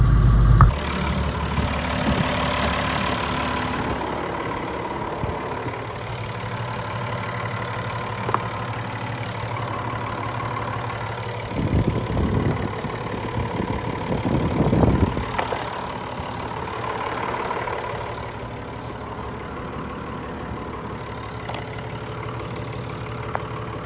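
A tractor engine idles and drones steadily while rolling a reseeded field, a constant low mechanical hum with occasional clunks and louder surges near the middle.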